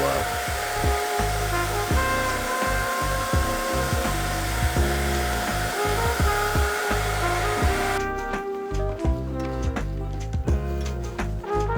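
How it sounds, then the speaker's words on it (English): A steady, loud hissing whir of a HomeRight paint sprayer painting cabinets runs continuously, pulsing slightly, then shifts to a thinner, lighter tone near the end. "So I use this Home Right sprayer that I got on Amazon."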